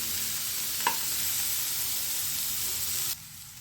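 Mixed vegetables for a Hyderabadi veg dum biryani frying in a pan over a low-medium flame, a steady close sizzle with one brief clink of a utensil, the sound dropping sharply near the end.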